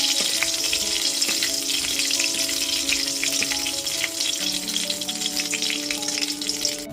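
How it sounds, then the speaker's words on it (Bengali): Two cloves, two cardamom pods and two cinnamon pieces frying in oil over a low gas flame, a steady close sizzle with light crackles and faint tonal hum throughout. "ফোড়নে দিয়ে দিচ্ছি 2টো লবঙ্গ, 2টো এলাচ আর 2টো দারচিনির টুকরো। গ্যাসের ফ্লেমটা লোতে রেখে ফোড়নটা ভেজে নেব।"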